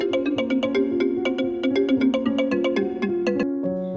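An incoming-call ringtone from a car's tablet plays a bright repeating electronic melody of quick plucked notes, steady and fairly close, with no voices.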